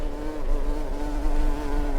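Continuous, close buzzing of a fly in a video game, a steady droning hum that swells slightly in loudness, with no other sounds.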